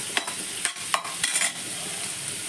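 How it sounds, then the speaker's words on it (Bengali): A katla fish head frying in hot oil, crackling and popping with sharp irregular spits over a constant bright sizzle, close and fairly loud. "আমি তো জানি না যে মাছের মাথা এত ফুটে, মাছ ভাজে কই এত ফুটে না, পটপট করে ফুটছে"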